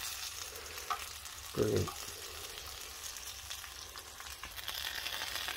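Bacon fries in a pan on an induction hob outdoors, giving a steady, soft sizzle throughout, with a brief utensil scrape and a single spoken word partway through.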